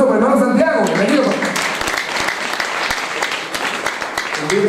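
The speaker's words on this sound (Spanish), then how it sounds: "un aplauso para mi hermano Santiago" A church congregation claps to welcome Brother Santiago at an anniversary service, steady applause rising under someone talking loudly over it.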